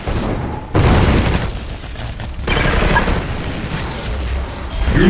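Explosions and weapons fire from the Mental Omega 3.3.4 strategy game, a dense, loud barrage of booms and bursts rolling on continuously with heavier blasts near the start and end.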